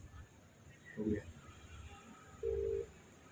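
Faint telephone dialing tones sound, one short beep and then a longer steady tone, over a quiet background hum.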